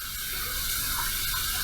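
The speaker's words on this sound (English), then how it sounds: "We're going to heat this up under some hot water." Hot water runs steadily from a tap, a continuous hiss and splash for a razor being warmed under the stream, with no talking.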